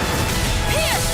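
Sword Rain attack shattering enemies in Tales of Arise, a loud dense crash of breaking impacts with a brief sweeping whoosh, continuous and heavy across the short burst.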